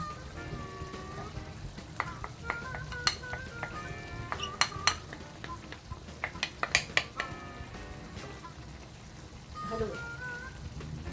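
Okra and ground meat with spring onions stir in a pan over soft sizzling, with scattered clinks and scrapes of a utensil against the pan, moderately quiet and close.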